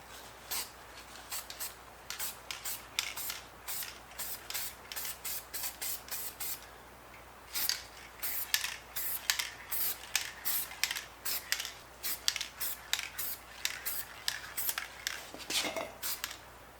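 An aerosol can of black anti-corrosive paint sprayed onto a metal heater-core bypass tube, heard as many short hissing bursts in irregular rhythm, fairly close and quiet, separated by brief pauses.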